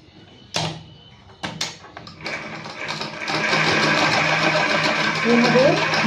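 Electric sewing machine back-stitching a fabric collar band, starting with a few short bursts and then running in a continuous fast whir, close and loud.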